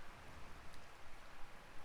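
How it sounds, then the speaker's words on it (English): Rain falling in a Tales of Vesperia game scene, a faint, even hiss of steady downpour with soft patter, brief and alone. "I believe the ongoing rain and wind are being caused by a Blastia"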